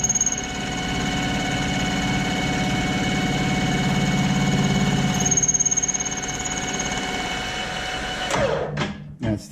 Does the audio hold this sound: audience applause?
no